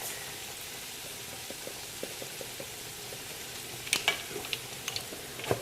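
Food sizzling and frying in a pan, seasoned with paprika and salt, with soft utensil scrapes and clicks from stirring, a few sharper taps near the end, steady and fairly quiet throughout.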